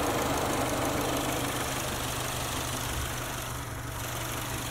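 A 2020 Subaru Outback Onyx Edition XT's 2.4-liter turbocharged boxer engine idles with a steady, dense mechanical drone and a low, even hum, close and constant with no talking.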